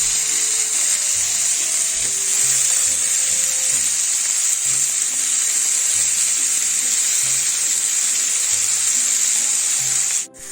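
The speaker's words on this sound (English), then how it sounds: "You can actually press it into the skillet." Beef pressed into a hot skillet for a Christmas pot roast sizzles steadily and loudly, a bright continuous hiss of frying fat running close up without pause, with faint background music underneath.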